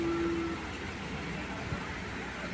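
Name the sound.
Darjeeling toy train running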